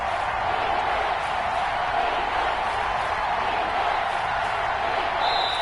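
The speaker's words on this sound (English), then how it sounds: "the crowd getting into it as we come up on a big third down" Stadium football crowd roaring and cheering ahead of a big third down, late in the fourth quarter of a one-score game; a dense, steady wall of distant crowd noise with no distinct voices.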